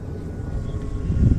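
RC airplane buzzing around at half throttle, a continuous low propeller and motor drone with wind rush, fairly close and steady.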